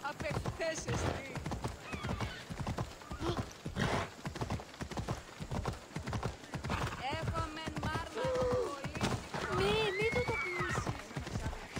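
Rapid rhythmic hoofbeats clip-clop throughout in the video game Assassin's Creed Odyssey, with occasional horse snorts and whinnies mixed in, all under ongoing talk.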